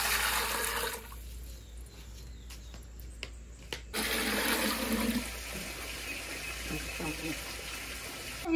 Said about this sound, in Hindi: अभी इसमें डालेंगे पानी